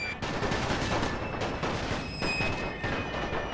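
Artillery and musket gunfire crackle in a Total War: Napoleon battle: a steady, loud barrage of overlapping shots broken by a few heavier booms, with no talking over it.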